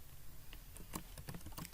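Typing on a computer keyboard while coding a Kotlin app, a quick irregular run of soft key clicks, faint and close, with no voices.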